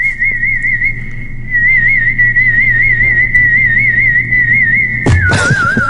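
A man whistles a single high, loud, warbling note with no music, holding it for about five seconds before a thump and a brief falling slide end it.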